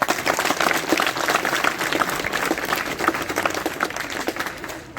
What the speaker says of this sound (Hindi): पहले तो इनके लिए जोरदार ताली बजाओ।